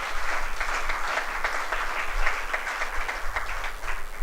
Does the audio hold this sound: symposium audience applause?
yes